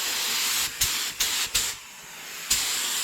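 A spray gun hisses in short bursts applying clear coat over a metal flake custom skateboard, several quick sprays followed by a longer pause and another burst, close and steady.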